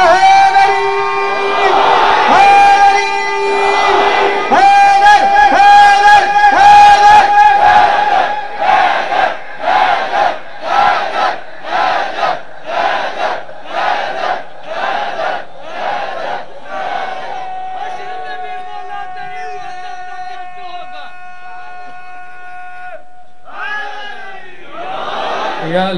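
A large crowd chants a slogan in rhythmic, loud unison bursts after a lead voice, the shouts repeating in a steady pulse and then fading as a single voice carries on.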